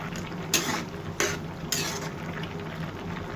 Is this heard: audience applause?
no